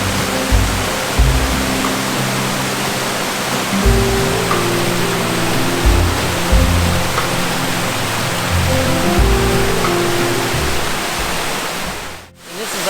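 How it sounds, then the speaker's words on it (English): Small waterfall along a trail in a Canadian national park in New Brunswick, a loud, steady rush of splashing water heard up close, with low rumbling surges and no talking. "right here came across this little waterfall trail"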